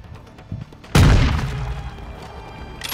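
Shotgun blast in a video game gunfight mode: one loud, sharp boom after a few soft clicks and thumps, its rumble decaying over the next second with faint background game noise.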